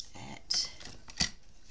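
Scissors snip through paper being cut for a craft pocket, two quick crisp cuts about half a second apart, close and clear.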